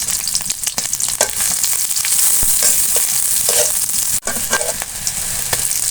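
Chopped onion and chili fry loudly in hot oil in a pan, a steady close sizzle with occasional stirring scrapes, no voices.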